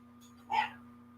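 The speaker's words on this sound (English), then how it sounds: "I apologize for any dogs you're hearing right now." A single faint dog bark, short and distant, rises briefly over a low steady electrical hum.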